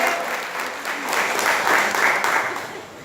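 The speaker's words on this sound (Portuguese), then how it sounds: "Você pode aplaudir ao Senhor por essa palavra?" A church congregation applauds together during a sermon, a dense wash of clapping that swells in the middle and eases off, with no speech over it.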